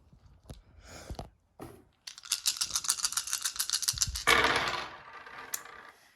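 Dice rattle as they are shaken for a roll in the Age of War dice game. A few brief clicks come first, then a sustained, rapid clattering shake that ends in a sharper burst, close and fairly quiet.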